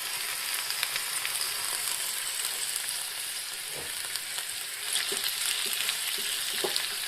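Marinated chicken for a chatpata kebab sizzles and fries steadily in a pan, a continuous bright hiss with occasional soft clinks and stirring scrapes, close and alone with no voices.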